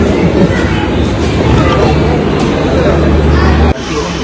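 Loud, continuous rumble of a train moving through busy Bandra station, with a crowd babbling nearby and an abrupt drop in noise near the end.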